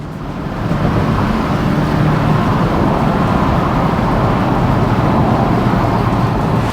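A Porsche 718 Boxster Style Edition drives along, its engine giving a steady, loud, continuous drone with road noise and no talking.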